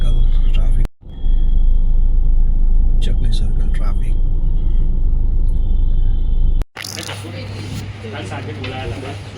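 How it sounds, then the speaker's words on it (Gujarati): Road traffic at Chakli Circle in Vadodara rumbles steadily with passing cars and heavier vehicles, broken by brief cuts, with people talking over it. "ચકલી સર્કલ ટ્રાફિક"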